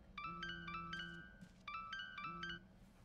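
A phone in the video game Tell Me Why rings from under a book, playing a bright electronic ringtone melody twice in a repeating pattern with a low tone beneath, fairly faint and with no speech.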